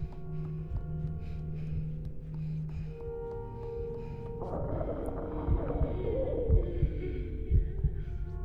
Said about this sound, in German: Oh, jetzt habe ich sogar den Herzschlag.